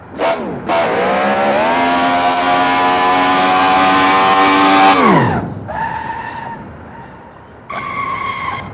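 A retro Corvette screams through a long, loud tire squeal with a high, steady rising whine, then drops away sharply and gives two shorter squeals afterward, close and alone.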